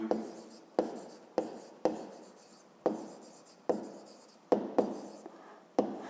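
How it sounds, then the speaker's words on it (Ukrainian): Pen writing an answer by hand on paper for a fifth-grade maths exercise, a series of about nine short scratchy strokes, each starting sharply and fading, close up and alone. "а тепер записуємо відповідь"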